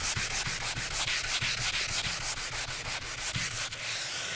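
Rhythmic back-and-forth strokes of hand sanding on wood with a Bosch EXPERT hand sanding tool, a steady close scratchy rasp pulsing with each pass and no talking.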